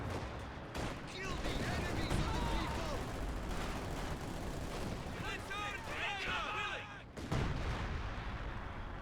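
Artillery fires at a Panzer IV tank during a Company of Heroes 2 battle, with dense rolling booms and crackling gunfire running continuously, and a voice talking over the combat.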